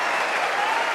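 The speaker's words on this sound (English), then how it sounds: "they're still cheering this crowd" A crowd at the 2017 Masters snooker final, Perry versus O'Sullivan, applauds and cheers in a dense, unbroken roar of clapping that holds steady from start to finish.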